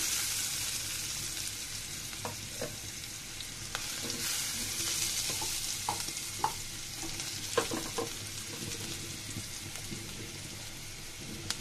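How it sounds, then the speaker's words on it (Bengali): Chopped onion and raw garlic fry in a pan with a quiet, steady sizzle, punctuated by scattered light spatula clicks and scrapes as they are stirred. "পেঁয়াজ রসুনটাকে আমি ভেজে নিচ্ছি।"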